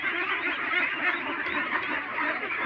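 A flock of farm ducks quacks continuously, many overlapping nasal calls in a busy, close chorus that stays loud and unbroken throughout.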